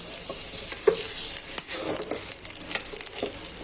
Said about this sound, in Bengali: তেলের মধ্যে আমি দিয়ে দিব পেঁয়াজ কুচি। পেঁয়াজ কুচিটাকে আমি একটু ভেজে নিব।